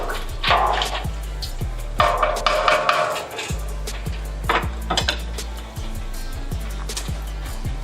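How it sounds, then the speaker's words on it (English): A large tub of liquid is stirred as four pounds of brown sugar is mixed in, giving repeated scraping, knocking strokes against the container with a steady low rumble underneath, no talking. "Four pounds of brown sugar is now in there. Let's stir it all in."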